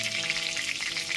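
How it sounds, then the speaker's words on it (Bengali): Marinated chicken pieces deep frying in hot oil make a dense, continuous bubbling sizzle, close and steady throughout. "উল্টে পাল্টে ঠিক একই রকম ভাবে গোল্ডেন ফ্রাই করে ভেজে নেব।"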